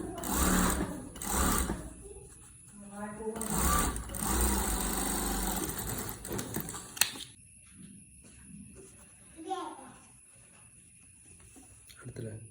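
A sewing machine stitches a shirt collar in bursts of rapid mechanical whirring, loud and close for the first several seconds, then quieter, with a high steady tone and lighter handling noises.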